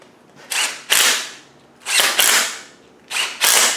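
An air impact gun tightens a bolt on a 2.25 engine during distributor drive fitting, firing three loud, close bursts in pairs of short rattling blows, each burst separated by a brief pause.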